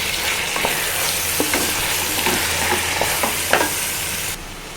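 Chicken biryani is stirred in a pot with biryani masala, a steady sizzling hiss running throughout with soft scraping and clinking from the stirring; no one speaks.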